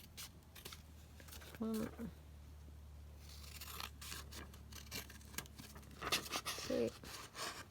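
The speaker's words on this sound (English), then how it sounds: "Then we're just going to cut this down." Scissors snip down through paper in a few short close cuts with light rustling, while a person speaks briefly nearby.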